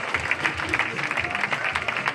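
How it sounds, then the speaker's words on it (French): A French audience claps loudly on request during a group session, an uneven patter of many hands with distinct sharp claps standing out, while faint voices murmur underneath. "Et je voulais que vous applaudissiez très fort."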